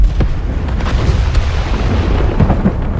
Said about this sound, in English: That was an impressive explosion.